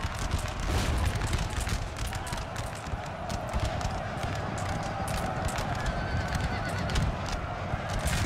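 Horses whinny amid a Napoleon Total War cavalry battle, neighs rising over a dense, noisy roar of hooves and fighting that keeps a steady level throughout.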